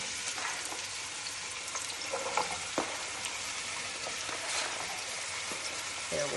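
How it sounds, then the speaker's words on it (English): Onions fry in hot olive oil for chili, a steady close crackling sizzle with scattered pops and occasional stirring scrapes, continuing without pause and with no talking. "So I'm going to add the onions and let them soften and just begin to brown"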